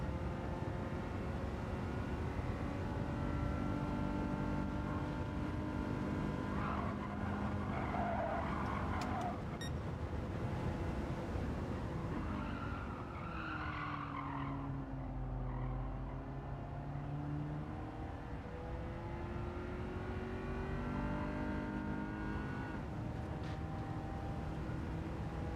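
In Gran Turismo 7, a Gr.3 race car's engine drones steadily, its pitch rising and falling through gear changes, with faint tyre noise and no voices.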